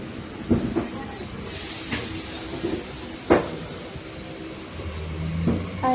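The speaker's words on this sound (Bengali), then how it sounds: "এতক্ষণ বসে থাকার পর ট্রেন ছেড়েছে" A Kolkata metro train pulls away with clanks, rumbling wheels and thin squeals from the rails, heard close from on board amid ambient carriage noise.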